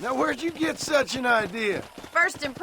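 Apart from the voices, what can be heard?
No everyday noise stands out behind the speech.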